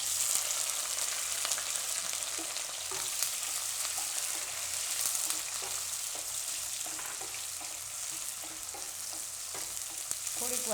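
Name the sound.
chilies and onion frying in oil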